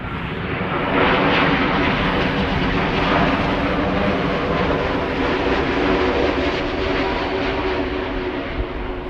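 A KLM airliner on its glide slope into Amsterdam Schiphol, arriving from Cartagena, gives a steady loud engine roar that holds evenly throughout with no speech.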